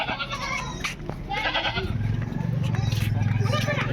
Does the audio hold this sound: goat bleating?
yes